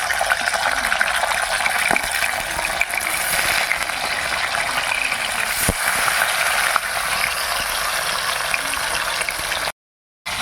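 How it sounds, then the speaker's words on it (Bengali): Rohu fish pieces sizzling in hot mustard oil after being turned over, a steady dense crackle and hiss with faint scraping clicks, continuous and close, cutting out briefly near the end. "মাছগুলো একদিক ভাজা হয়ে গেল আর একদিক উল্টে দিলাম"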